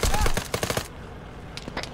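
Rapid automatic gunfire in Arma 3, a quick string of loud close shots for under a second, followed by a few scattered fainter shots.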